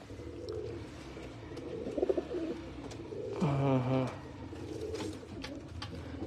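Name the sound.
pigeons cooing at a breeder's loft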